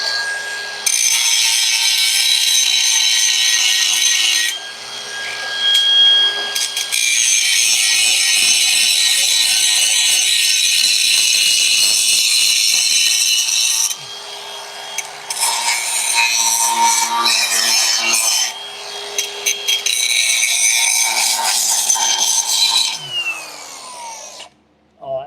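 A power grinder working a part down in a garage during Winnebago repairs, a loud sustained high-pitched whine that cuts out briefly and starts again several times, up close and alone.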